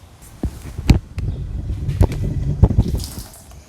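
Water sloshes and splashes out of a box holding a golf cart trailer hitch receiver, a few loud irregular gushes and drips, close up with rustling handling between them.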